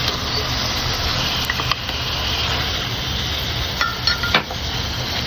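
Shrimp dropped into a hot pan with turmeric, cumin and coriander powder, giving a steady loud broadband sizzle throughout, with a few faint clinks of a utensil against the pan.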